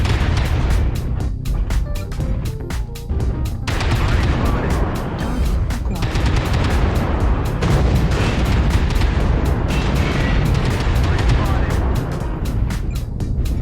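Rapid bursts of UAC10 autocannon fire from a Summoner Prime mech in MechWarrior Online, dense and loud, with booming impacts layered over a constant heavy mechanical rumble and no talk.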